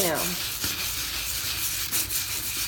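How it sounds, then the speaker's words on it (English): A wire brush scrubs back and forth over a surface with soft, continuous, scratchy rubbing. The sound is fairly quiet and close, with no talking. "I have a wire brush because I thought I needed to wire brush everything."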